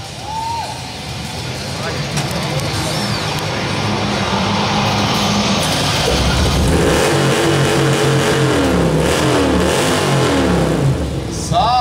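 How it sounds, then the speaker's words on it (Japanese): A customized car at a custom vehicle ride-in show starts up and its engine revs loudly for several seconds, the roar rising and falling while an announcer and crowd talk over it. "はいさあそれではエンジンかけていただきましょう"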